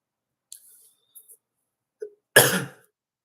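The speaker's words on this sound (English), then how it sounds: "I coughed and it pulsated" A single close cough indoors during a livestream about keeping roach colonies, one harsh loud burst preceded by a few faint small clicks and breaths.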